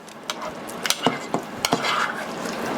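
A spoon stirs a cooled no-churn strawberry Oreo ice cream mixture in a bowl, giving a few sharp scrapes and taps against the side amid a soft swishing, close and steady with no voices.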